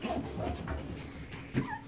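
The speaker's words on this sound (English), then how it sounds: "And we have Piper's puppies" A litter of young puppies whimpers and yips softly in short, scattered cries, close by and fairly quiet, with a slightly louder squeal near the end.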